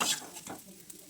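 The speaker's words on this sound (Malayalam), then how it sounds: "ഇതുപോലെ അങ്ങോട്ട് വറുത്ത് കോരി എടുക്കാം." Palinji frying and being stirred in a pan, with soft sizzling and a few scraping, clinking stirs, quiet and close.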